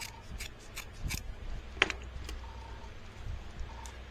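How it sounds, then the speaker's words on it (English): Excess leather being trimmed from the side of a knife sheath, with a series of quiet, sparse snipping and cutting clicks, one sharper snip midway, in a quiet room without talking. "then I trim it, trim this off, trim off the excess on the side"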